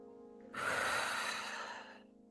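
A single long exhalation, breathy and close, rising suddenly and trailing off over about a second and a half during a slow side stretch, with a faint steady hum underneath.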